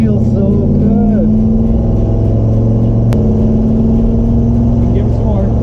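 A 1957 Chevrolet Bel-Air street machine's V8 engine revs close by, holding a loud, steady drone that climbs in pitch partway through, with a sharp click midway and voices talking faintly under the engine.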